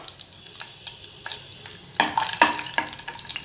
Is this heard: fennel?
yes